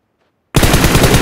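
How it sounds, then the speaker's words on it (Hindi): Automatic gunfire in a shooting video game bursts in suddenly after half a second of silence and keeps up as a loud, dense, continuous rattle of rapid shots to the end. "गन कौन चला रहा है?"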